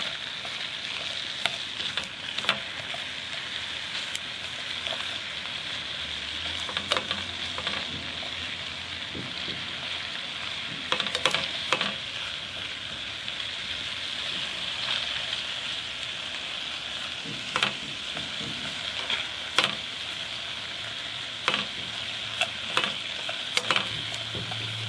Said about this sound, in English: I'm going to kind of stir it up to make sure it gets glazed on all sides.